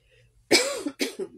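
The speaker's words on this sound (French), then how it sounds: "j'ai envie de tousser." Two close, harsh coughs in quick succession break a short silence, the second slightly weaker than the first.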